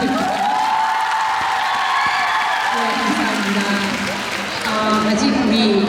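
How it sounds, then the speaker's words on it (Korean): A hall full of girls' high school students applauding at a school concert, with dense, sustained clapping, a few cheers and whoops rising over it, steady and loud throughout. "스스로에게 응원 박수 한번 부탁드립니다."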